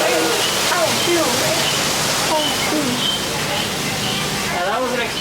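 A waterfall on the Disneyland Jungle Cruise ride at night rushes loudly and steadily close by, while a guide's voice talks over the roar.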